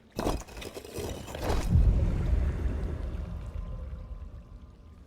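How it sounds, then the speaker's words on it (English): Rushing water from a waterfall in the pirate video game Sea of Thieves, a loud splashing wash that surges after a couple of brief bursts and then slowly fades. "Behind the waterfall. That was right here, the waterfall."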